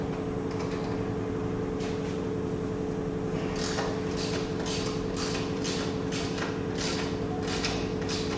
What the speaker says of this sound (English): Just bust these two bolts out.